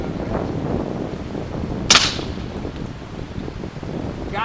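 A semi-automatic machine gun fires one sharp, loud crack outdoors, a single report in the middle against steady wind rumble and background noise.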